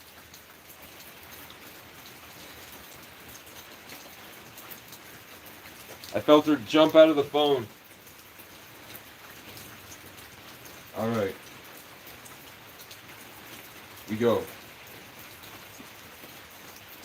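Steady rain falling outdoors, a soft constant hiss throughout, with a person speaking briefly over it a few times.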